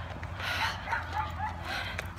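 A dog gives short, muffled yips and barks indoors, close by and fairly loud for a couple of seconds.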